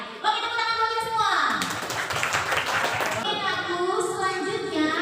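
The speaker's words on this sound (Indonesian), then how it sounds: "tepuk tangan buat kita semua" A school class applauding together in a civics lesson, a burst of clapping lasting a couple of seconds with a teacher's voice over it before and after.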